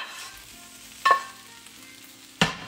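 Shrimp hit a hot pan with cooked rice for THC-infused shrimp fried rice, giving a steady low sizzle with two sharp bursts of spattering as pieces drop in, close and fairly loud, no voices.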